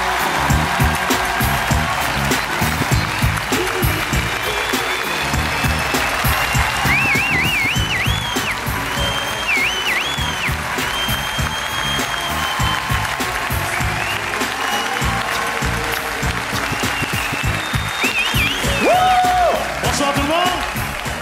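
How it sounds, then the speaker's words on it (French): A theatre audience at a stand-up comedy show applauds a comedian, a dense, continuous wash of clapping that holds steady for about twenty seconds, with cheers and whistles rising here and there. "on applaudit bien fort Anthony Cavana."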